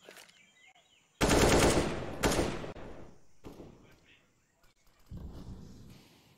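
Gunfire in a Counter-Strike match, loud automatic bursts in two close volleys followed by a shorter trailing burst, with a commentator talking over the fight.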